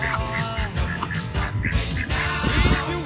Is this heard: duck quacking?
yes